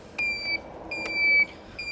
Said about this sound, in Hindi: तो कुछ इस तरह से बीप करते इंडिकेटर।